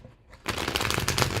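Tarot cards being shuffled, a near rapid riffling patter that starts abruptly after a quiet moment and continues densely to the end, with no talk.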